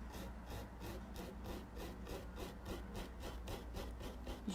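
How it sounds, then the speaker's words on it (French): A 1/4 paintbrush sweeps over a surface in quick, even back-and-forth strokes, a dry rhythmic scratching repeated about a dozen times, close and fairly quiet. "On brosse la surface pour bien couvrir"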